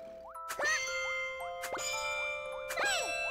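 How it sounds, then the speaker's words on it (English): Bells in Kirby's Epic Yarn ring out one after another as a scale is played, clear bright chimes with rising tones spaced about a second apart, with no talking. "we actually get all these bells here, which allows us to actually play like a scale"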